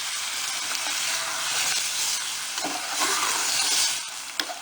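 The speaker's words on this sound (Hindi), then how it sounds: "ये देखो, इसी टाइम ये यखनी इसमें ऐड कर देंगे।" Yakhni stock poured and stirred into a sizzling pan of Chicken Manchurian, giving a steady broad hiss and bubbling with scraping stirs and a sharp clink near the end.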